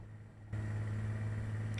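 Steady droning aircraft engine in Coastline Flight Simulator, jumping suddenly in level partway through and then holding a constant loud hum with no voices.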